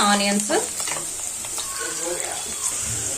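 Onions fry in a pan for chicken fry, a close, bright sizzle with scraping and stirring movements, while a voice talks over the cooking.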